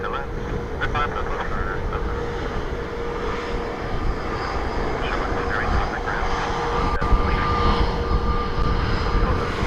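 A Ryanair airliner lands on runway 28 at Dublin Airport, a loud, steady jet engine roar with a broad rushing wash that persists throughout, heard beneath voices.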